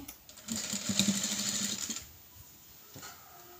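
A sewing machine stitches a folded piping piece in one brief, close burst of about a second and a half, then falls quiet apart from a small click.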